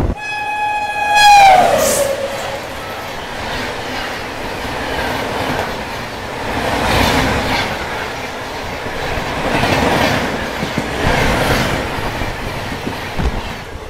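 A loud train horn blasts at the start, then the 13006 Amritsar–Howrah Mail rumbles and clatters past steadily and close, with rhythmic wheel noise swelling and fading.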